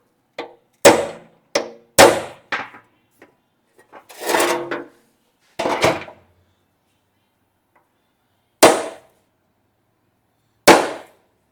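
Center punching the metal of 1965 Chevy C10 truck bed sides: a string of sharp, separate hammer-on-punch strikes, loud and close, spaced irregularly with pauses between blows.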